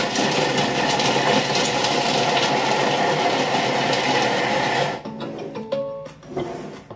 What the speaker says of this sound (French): Allez, on mixe tout ça. On ferme et c'est parti. 5 secondes.